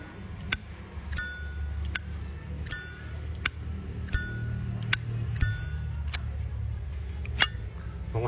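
A brass Zippo lighter lid is snapped open and shut again and again, each sharp metallic click leaving a brief bright bell-like ring, about a dozen times at an uneven pace over a low background hum.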